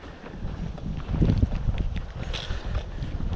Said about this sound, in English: Nothing too serious, but definitely a breeze today.